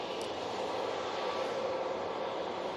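An airliner comes in to land at Manchester Airport, its engines a steady broadband roar held at an even level throughout, with no voices.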